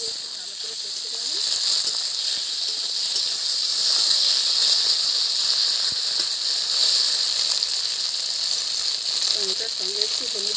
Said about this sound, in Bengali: টমেটোটা দিয়ে একটু ভালো করে কষে নেব।